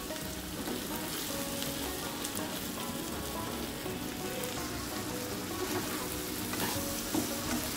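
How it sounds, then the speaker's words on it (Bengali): Fresh shrimp are fried in a pan for chingri bhuna, with a dense, even, rain-like crackle and sizzle running throughout at moderate volume, with faint stirring. "খুব ভালো মতো এগুলোকে ভেজে নেব।"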